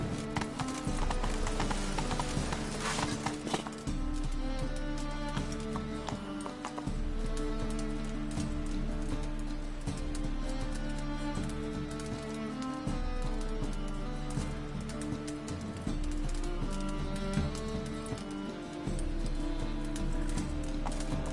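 Horse hooves clip-clop steadily in The Witcher 3 video game, a continuous trotting rhythm mixed under a constant bed of music and ambience.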